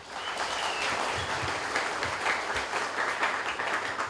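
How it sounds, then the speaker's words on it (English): A crowd at a university vice-chancellor handover ceremony in Papua New Guinea gives steady, full applause from many hands, loud and sustained across the whole stretch. "As the congratulatory applause died out"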